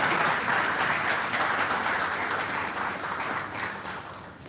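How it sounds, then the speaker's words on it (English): An audience applauds at a university hall in Abuja as a World Bank regional vice president is welcomed. The dense, sustained clapping fills the whole stretch and eases off slightly toward the end. "A round of applause for him."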